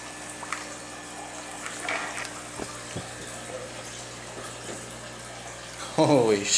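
A giant pleco thrashes as it goes into a 125-gallon aquarium, throwing up a sudden loud burst of splashing water near the end after a stretch of quieter trickling and handling noises.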